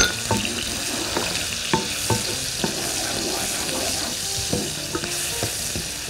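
Garlic and onion fry in a pan while being stirred, a steady close sizzle broken by repeated scraping and knocking strokes of the spoon.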